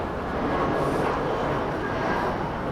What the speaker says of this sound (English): planes going over, yeah